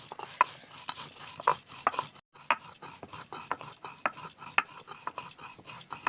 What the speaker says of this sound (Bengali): দুটো শুকনো লঙ্কা নিয়েছি শুকনো লঙ্কা দুটো বেজে নেব